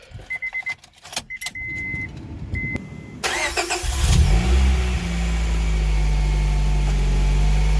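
A fifth-generation Honda Prelude, just back from a thermostat replacement and coolant flush, is cranked and fires up. Clicks and key jingles come first, then the engine rises into a loud, steady idle that settles and keeps running close by.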